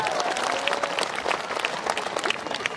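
Congregation clapping in praise during a church service, brisk and lively hand claps from a nearby crowd, with a few voices heard faintly beneath.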